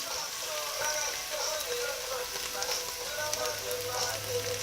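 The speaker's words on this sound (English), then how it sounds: "So stir it out, cook that garlic out before we add" A large amount of garlic fries slowly in a pan for coconut chicken, producing a soft, continuous sizzle and crackle at moderate volume, with no talking.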